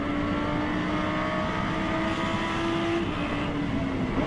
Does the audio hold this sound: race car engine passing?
yes